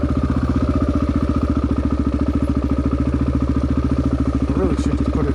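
A Honda XR250 dirt bike climbs a steep hill, its single-cylinder engine thumping in a steady, rapid loping pulse, loud and close, with a brief rise in pitch near the end.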